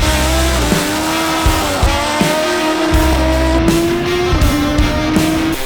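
A supercharged Kawasaki ZZR1400 motorcycle screams at very high speed, loud and close, with its engine note climbing and dropping through several quick gear changes and no voices.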